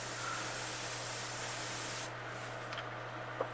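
A steady airbrush hiss sprays paint onto a fishing lure continuously, then cuts off partway through, leaving a quieter background hum and a faint tap.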